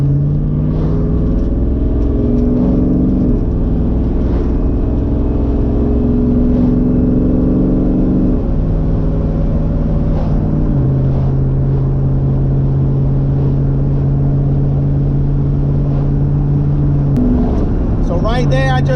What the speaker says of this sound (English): So right there, I just brake boosted it a little bit.